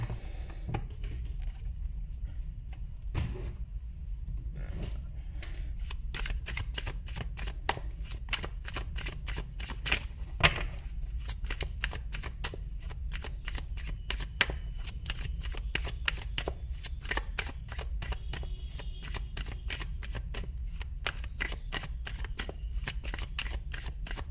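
Tarot cards are shuffled by hand in a long close run of crisp riffling and flicking, with dense rapid snaps that come in bursts and slap now and then, and no talking.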